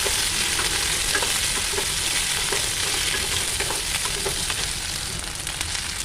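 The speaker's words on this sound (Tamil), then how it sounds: "இஞ்சி அதுக்கப்புறம் பத்து பல் பூண்டு இதெல்லாம் போட்டு நல்லா வதக்கிக்கலாம்" Ginger, tamarind and ten garlic cloves sautéing in a pan, a loud, dense, continuous sizzle and crackle of frying that holds steady throughout with faint stirring ticks underneath and no voices.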